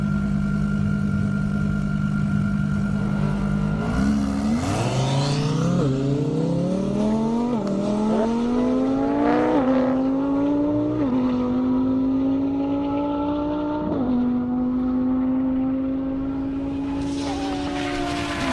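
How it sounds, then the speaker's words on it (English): A 1,300-horsepower Lamborghini Huracan launches down a half-mile airport airstrip drag strip, its engine climbing in pitch through a series of quick upshifts, loud and close at first before easing off. "Looked like a good clean hit for Ryan there in that Huracan."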